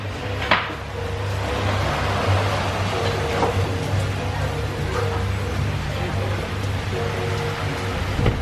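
Pouring rain in the Maldives, heard from under an awning: a dense, steady hiss of falling water with scattered drips and occasional knocks close by.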